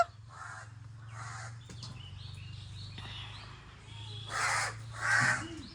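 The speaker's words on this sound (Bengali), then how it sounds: "কাক কয় শোনা, কাক হুশ করো" Several crows caw in loud bursts, two calls early and two louder ones near the end, over a low steady hum in an outdoor household setting.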